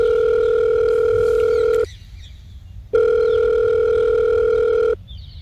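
Ringback tone of a phone call that goes unanswered: two loud, steady tones, each about two seconds long, separated by a short pause.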